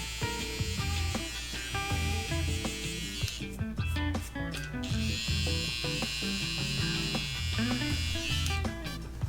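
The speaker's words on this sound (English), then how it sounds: "you want to just go back with your trimmer and just hit any of them little hairs that hang over" Electric hair trimmer buzzing steadily while touching up stray hairs around the ear in a home fade haircut, a continuous close hum with slight pitch wavers as it moves.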